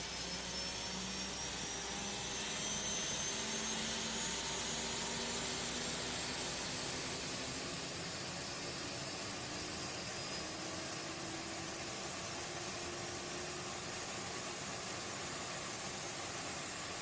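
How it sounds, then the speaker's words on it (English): Auxiliary power unit of a ToLiss A320neo airliner in the X-Plane 11 flight simulator, with the VSS sound pack, spooling up: a steady, loud mechanical whine and roar with slowly rising tones, continuous and alone. "Listen to this APU spool up."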